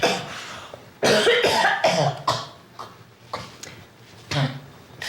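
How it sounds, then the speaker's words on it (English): A patient with HIV-related pneumocystis pneumonia coughs several times in short bursts, close and fairly loud, with brief pauses between and a breathy throat sound near the end. "It's not unusual for you to take some deep breaths and cough a lot right now."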